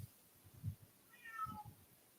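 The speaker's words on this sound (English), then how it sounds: "Oh, now the cats are scared." Cats meowing with a few short, faint rising calls, the clearest cry sliding down in pitch near the middle of the clip, over low background noise and soft rumbles.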